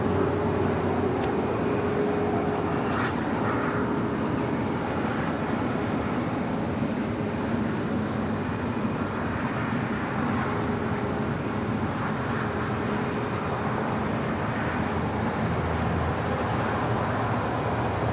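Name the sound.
airliner taking off from LAX runway 25 right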